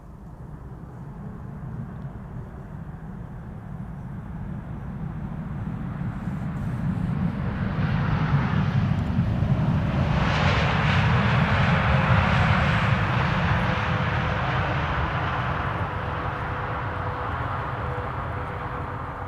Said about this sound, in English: Saudi flight 215 arriving from Jeddah, landing here.